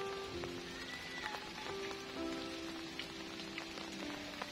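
Rain falls steadily in a forest, a dense, continuous patter of drops on leaves and surfaces, close and even throughout.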